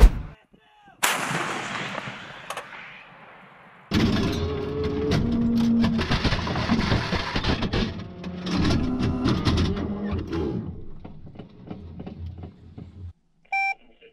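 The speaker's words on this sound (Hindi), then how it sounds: "Выстрел. Выстрел. Выстрел!" Tank gunfire from a T-72B3 in the Russia–Ukraine war, loud booming shots with a sharp blast near the start and a heavy sustained roar that slowly fades, ending in a short beep.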